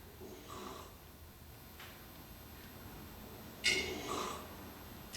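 A person snoring in a sleep recording, with three breathy, rasping snores at uneven intervals, moderately loud and alone over steady background noise.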